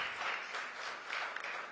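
Brief burst of audience clapping at a youth conclave welcoming three speakers, a dense even patter of many hands.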